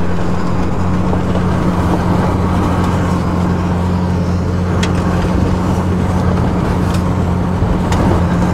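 Off-road vehicle driving through a sandy desert wash, a loud steady engine drone with heavy low rumble and gritty broadband noise of wheels churning continuously, no voices.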